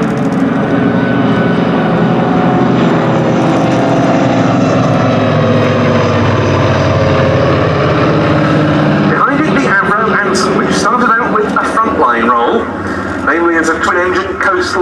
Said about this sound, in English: As a twin-engine coastal reconnaissance land plane for RAF Coastal Command.